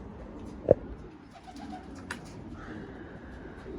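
Racing pigeon on a rooftop giving a single faint coo, with a sharp tap or flutter and a few soft distant sounds over quiet outdoor background.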